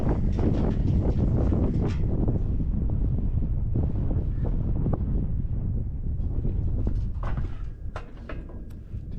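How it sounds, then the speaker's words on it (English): Strong wind buffets the microphone outdoors at a cattle chute during calf vaccinating, with a loud, continuous low rumble and gusty roar throughout, with occasional faint knocks. "A little bit windy."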